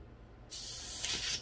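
Airbrush releases a very light mist of black paint in one short, soft, steady hiss lasting under a second, close by with no voices.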